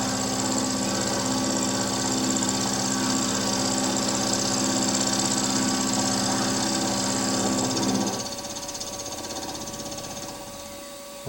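A WM16B milling machine makes a finishing cut, giving a steady, close mechanical whine with a strong tonal hum for about eight seconds before the cutting noise drops away and a quieter motor drone remains.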